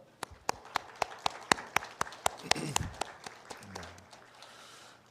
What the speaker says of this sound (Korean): 일어나 주시고 우리 박수로 우리 환영하도록 하겠습니다